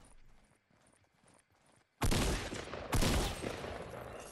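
Gunfire in the video game Fortnite from an enemy shooting at the squad: faint tapping at first, then two sudden loud bursts of rapid shots around the two- and three-second marks, close and harsh.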